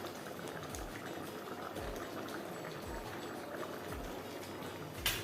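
A vegetable curry simmers in a covered pan, with a soft, continuous bubbling and occasional faint pops, fairly quiet and steady throughout.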